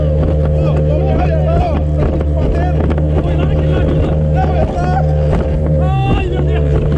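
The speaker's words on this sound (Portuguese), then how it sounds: "a gente veio de mini lancha" Steady, loud drone of a small motorboat engine cruising on open sea from Balneário Camboriú, with wind buffeting and people talking over it.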